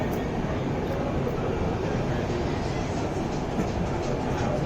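Mumbai Metro Yellow Line train running, heard from inside the coach as a loud, steady rumble and broadband roar that holds evenly throughout.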